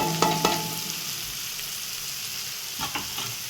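Beans and grated raw coconut fry in oil with a continuous crackling sizzle, punctuated by a few sharp scraping stirs near the start and again toward the end, with no voices.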